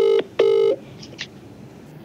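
A telephone sounds two short electronic tones, the second longer, followed by quieter clicks and faint dialing noises, close and alone.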